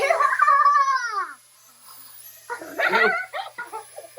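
Dogs whimpering and yipping indoors during a kid-safe Syma X100 mini drone flight, a strained whining cry in the first second and a half, then a pause and a few short rough bursts that could be brief barks.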